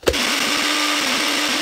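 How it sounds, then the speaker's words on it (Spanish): Nutribullet blender grinding cornflakes into crumbs, a steady loud whir starting abruptly and running continuously at close range. "aquí yo ya tengo el conflés del gallito en el Nutribullet"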